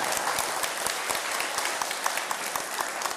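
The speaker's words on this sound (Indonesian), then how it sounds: "menang Bima, tepuk tangan loh" An audience claps briskly and steadily at a spiritual talk, a dense, even wash of applause with sharp individual claps throughout and no speech over it.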